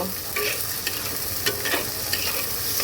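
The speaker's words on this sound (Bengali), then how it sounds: "পেঁয়াজটাকে সুন্দর করে আমি একটু ভেজে নেব" Chopped onions sizzle steadily in hot oil with cumin seeds and bay leaf while cooking magur fish dopiaza, with brief clinks and scrapes of stirring in the pan throughout.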